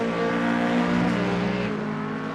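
Ford Mustang GT3 race car at Road America, a sustained engine roar holding a steady pitch before easing off near the end; moderately loud and continuous, with no talking.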